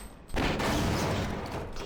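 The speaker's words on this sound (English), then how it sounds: "That metal explosion sound." A tripmine in Half-Life: Source detonates with a sudden loud metallic blast that rolls into a sustained rumbling roar.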